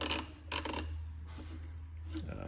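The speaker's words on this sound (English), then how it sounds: "you got this 5/16 1/4-inch little ratchet deal" A small 5/16 and 1/4-inch ratchet clicks in short bursts of rapid pawl ticks, close and quiet, separated by pauses over a low steady hum.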